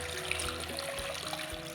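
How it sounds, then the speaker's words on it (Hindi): Water pours into a cooking pot for carrot murabba in a home kitchen, a steady soft trickling splash with low rumbling beneath, moderately close and without talk. "अब मैं इसमें डाल दूँगी पानी।"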